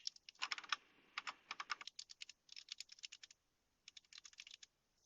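An email address is typed on a computer keyboard in quick bursts of crisp, close key clicks separated by short pauses, with no one talking.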